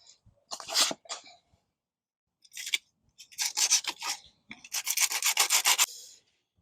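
Rough 80 grit sandpaper rasping back and forth over wood in short bursts, with quiet pauses between strokes, close and fairly loud.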